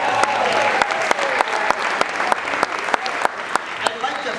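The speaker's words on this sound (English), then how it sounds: "Round of applause." A gala audience breaks into steady, full applause, dense clapping carrying on evenly throughout with a few sharper individual claps standing out.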